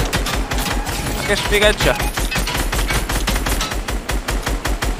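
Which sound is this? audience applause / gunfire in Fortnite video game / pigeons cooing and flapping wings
gunfire in Fortnite video game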